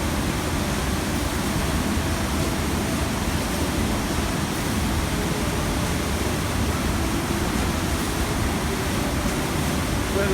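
A waterfall at Crow Creek Falls, where people are fishing, gives off a steady, dense roar of falling water that fills the whole stretch close up and unbroken, with no pauses or change in level.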